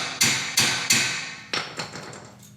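A metal bracket being tapped into place on the frame of a third-generation Toyota Tacoma, five or six sharp, ringing hammer blows in two quick groups, close and loud with no talking.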